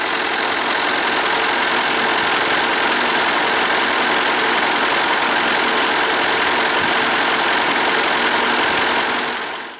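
A used Mitsubishi Canter truck's 4.9-litre, 150 hp intercooled turbo diesel runs at a steady idle, close and loud, with an even mechanical clatter throughout and no talking.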